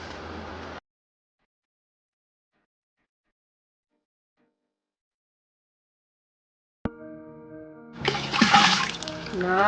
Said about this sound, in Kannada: ಯಾವಾಗಾದ್ರೂ ಚೊಂಬಲ್ ನೀರ್ ಹಾಕಿ ನೋಡಿದ್ಯಾ?